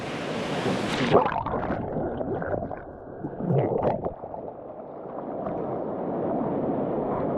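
Sea waves washing at Cayton Bay during a morning swim, a steady close churn and gurgle of water with a brief heavier splash near the start and another surge midway, no talking.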